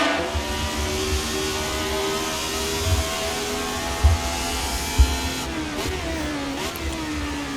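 A 1973 racing car lifts and sweeps through Woodcote corner at Silverstone at over 150 mph, its engine a loud sustained wail that drops and rises again as it passes, with brief thumps under the roar.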